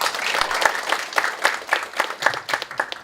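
An audience at a community forum applauds a speaker with a steady burst of many hands clapping at close range, sustained and fairly loud, with no talk over it.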